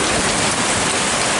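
Steady rain falling after an Eastern Kentucky hailstorm, a dense continuous hiss close by with no pauses and no voices.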